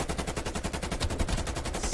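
Rapid automatic gunfire in a Call of Duty match, a fast steady burst of shots rattling on without pause, moderately loud.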